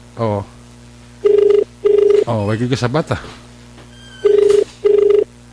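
A cellphone rings in repeated short electronic bursts, fairly loud and close, during a night patrol, with people talking between and around the rings.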